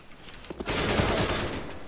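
Bursts of rapid gunfire in the shooter game CS:GO, a dense crackling volley that erupts partway through and keeps going to the end, loud and close.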